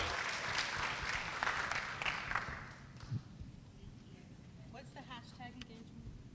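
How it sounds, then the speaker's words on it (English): An audience at a school technology conference applauds loudly as a presenter comes on stage, the clapping fading out after about three seconds into quieter room noise and a few faint voices. "Mike, let's give Mike a round of applause as he comes on down."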